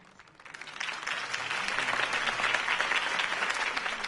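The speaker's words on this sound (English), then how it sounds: "could have heard that applause" A campaign crowd applauds Harvey Dent after his speech, clapping swelling quickly from a soft start into a broad, sustained ovation that holds steady to the end.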